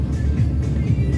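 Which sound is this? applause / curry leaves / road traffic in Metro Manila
road traffic in Metro Manila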